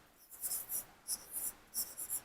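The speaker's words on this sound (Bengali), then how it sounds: "কাছাকাছি লিখি" Numbers are handwritten on paper while a Class 6 maths exercise is worked through. A pen scratches close by in about half a dozen short, quick strokes, quiet and alone with no speech.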